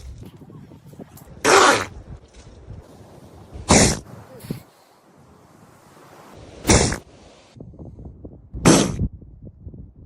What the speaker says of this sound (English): This is what a seal sneeze sounds like.